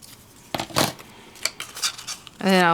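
Scissors snipping cardstock paper to fit a tiny matchbook-style card, a few crisp close cuts and rustles, followed by a person starting to talk at the end.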